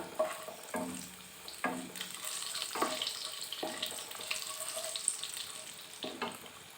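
Cumin, dried red chili and bay leaf sizzle in hot oil, a soft, steady frying crackle broken by brief stirring scrapes every second or so, close but faint, with no voices.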